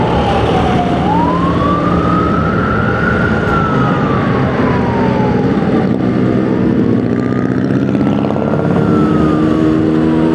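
An ambulance siren rises and falls in long sweeps over the steady engine drone of a Yamaha RX-King motorcycle, loud and close, with no talking.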